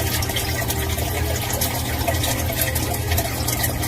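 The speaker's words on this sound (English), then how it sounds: "You can hear it fill in the chamber." Water pours steadily into a basement sump chamber through the footer drainage, a continuous close rushing and gurgling fill with no pauses.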